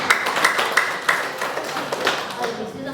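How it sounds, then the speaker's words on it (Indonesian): A room of people at a meeting gives the supervisors a round of applause: a burst of fairly close hand clapping lasting a few seconds, with some voices underneath. "kita berikan aplaus kepada pengawas."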